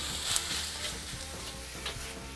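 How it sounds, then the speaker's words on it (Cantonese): Pork belly pan-frying in oil in a smoking-hot wok, a steady close sizzle with occasional stirring scrapes and brief crackling bursts. "首先咧，我哋要煎香咗個五花腩先。"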